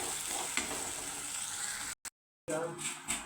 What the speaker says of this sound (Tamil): அரைச்ச மசாலாவையும் சேர்த்துக்கலாம். நல்லா வதக்கிக்கலாம்.